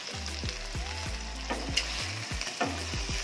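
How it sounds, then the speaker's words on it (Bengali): Lemon pepper chicken cooks in bubbling butter and oil under a lid, a steady close sizzle and simmer running throughout beneath background music. "দেখো কত সুন্দর তেল উঠেছে, পুরো অয়েল অয়েল হয়েছে, সুন্দরভাবে বয়েল হচ্ছে"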